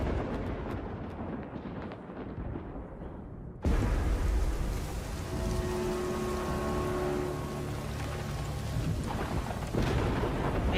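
Heavy rain and rolling thunder, a dense continuous downpour with a deep rumble that swells after a sudden loud crack, followed by sustained low droning thunder as the storm roars on without any talking.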